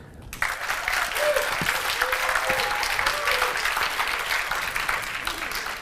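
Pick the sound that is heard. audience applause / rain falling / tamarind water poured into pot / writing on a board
audience applause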